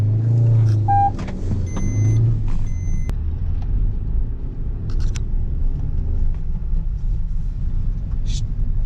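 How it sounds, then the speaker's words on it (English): A 2020 Maruti Suzuki XL6 engine hums and rumbles steadily in first gear, rising slightly as it revs, with faint clicks and mechanical noises over the low drone. "putting the car into first gear, revving the motor"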